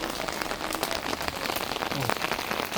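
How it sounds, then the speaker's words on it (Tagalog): Rain falls in sunshine outside a house, a dense, steady patter of drops striking nearby surfaces, fairly loud and close throughout, with no voices over it. "maaraw pero umuulan."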